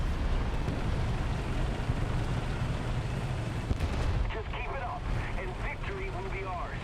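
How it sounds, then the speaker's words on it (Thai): A heavy cannon fires at a Sherman tank in War Thunder, the Lorraine 155 Mle.50's 155 mm gun booming in a loud rumbling blast, followed by someone talking. "ยิงเชอร์แมนไป"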